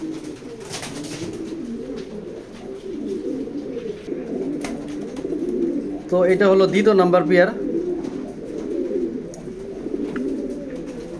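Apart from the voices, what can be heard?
pigeons cooing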